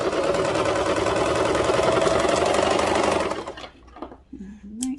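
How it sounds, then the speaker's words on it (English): A serger sewing machine runs with a fast, steady rattling whir for about three and a half seconds, close and loud, then stops, followed by a brief voice and faint handling sounds. "So let's go over to the serger."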